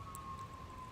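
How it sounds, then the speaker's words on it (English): A faint emergency vehicle siren passes outdoors, heard as a thin, steady wail that stays distant and low in level. "I wonder if you can hear the sirens behind me."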